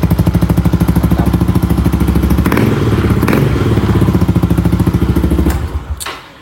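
Motorcycle engine, on a bike with a battery-charging fault, runs with a loud, steady, close idle chug and then cuts out near the end, leaving brief clatter.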